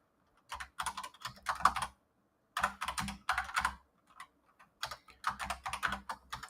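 Typing on a computer keyboard comes in quick, clustered bursts of key clicks with short pauses between them, close and fairly quiet.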